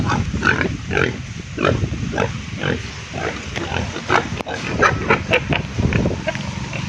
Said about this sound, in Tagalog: Ayan, baboy ramo.